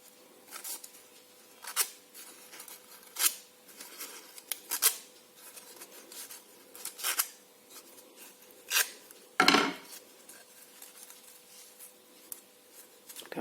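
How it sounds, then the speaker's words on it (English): Scissors snip crepe paper while shaping flower petals, giving a series of crisp, irregular cuts with soft paper rustling between them, close and fairly quiet. "You can even use the scissors."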